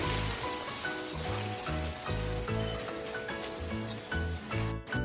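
Spices and mustard paste fry on a low-medium gas flame for a Bengali pabda fish jhal, giving a steady, close sizzle with a soft rhythmic background underneath.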